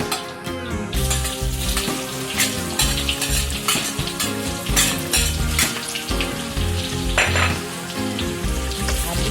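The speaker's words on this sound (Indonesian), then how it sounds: "Kita goreng bawang putih." Steady sizzling of garlic frying with frequent scraping and stirring clatter from a pan, close and fairly loud, no voices.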